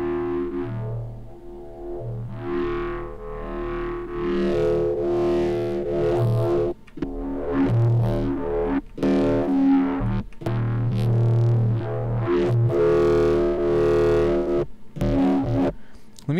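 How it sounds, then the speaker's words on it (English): A distorted, buzzy bass synth patch made in the Current synth plays sustained gritty notes with brief gaps, loud and up front throughout. "add a little bit more distortion to this"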